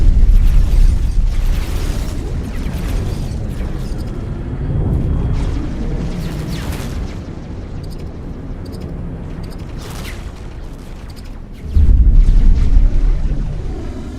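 The experimental shuttle's guns in X4: Foundations fire in a steady barrage of booming, explosive bursts with a heavy low rumble underneath. The volume holds fairly constant, then a louder burst lands near the end.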